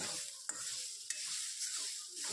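Bitter gourd is stirred and sautéed in hot oil, a soft continuous sizzle with a few sharp scrapes of a spoon against the pan, close and fairly quiet.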